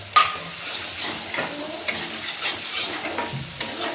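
Ground peanut powder roasts in a pan for a dry fenugreek dish, a gentle sizzle under scraping, rustling stirs of a spatula, close and moderate in level, with nobody speaking.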